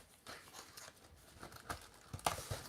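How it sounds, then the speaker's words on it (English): Plastic packaging bag crinkling as an action figure is pulled out, soft rustles and crackles with a few sharper crinkles near the end, close but quiet. "we get a little plastic bag or a little paper"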